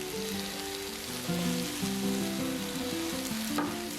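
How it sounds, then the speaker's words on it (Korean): Onion and king oyster mushrooms stir-fry in a pan with a little water, giving a soft, steady sizzle and hiss at moderate volume with no talking. "양파 먼저 볶아주고 새송이버섯 볶아주고"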